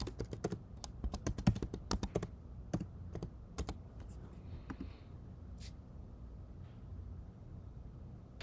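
Keys clatter on a computer keyboard as a password is typed, starting as a quick burst of close, crisp clicks, then thinning to a few scattered taps over a quiet background.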